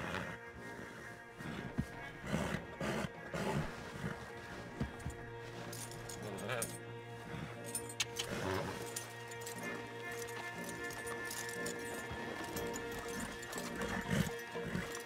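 Horses in Red Dead Redemption 2 move along with steady clip-clop hoofbeats and occasional snorts, under game music and ambient sound, with brief bits of voice now and then.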